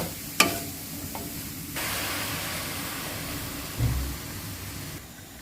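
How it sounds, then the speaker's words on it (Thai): Soaked, squeezed vegetarian protein is dry-roasted in a pan for Thai vegetarian larb, giving a steady, close frying hiss with a sharp clink near the start and a brief scrape partway through. "โปรตีนแห้งต้องเอาไปแช่น้ำก่อนนะคะแช่น้ำแล้วก็เอามาบีบล้างให้สะอาด แล้วก็เอามาคั่วคั่ว"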